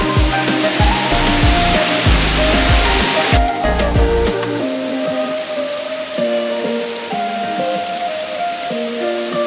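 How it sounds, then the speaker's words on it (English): Shiraito Waterfalls in Itoshima, Japan, pour with a steady, dense roar of falling water that stays loud and continuous throughout, with a few brief knocks and bumps near the start. "The Shiraito Waterfalls."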